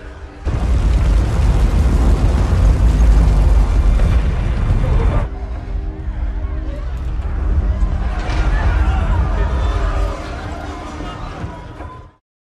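A massive comet impact rumbles in the film Greenland, a deep booming roar that surges in and sustains, drops slightly, then swells again before cutting off abruptly.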